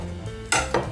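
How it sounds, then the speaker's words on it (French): A knife cutting a boiled egg into small pieces on a board, two sharp close chops after a quiet kitchen hum. "On va commencer par couper l'œuf en petits morceaux"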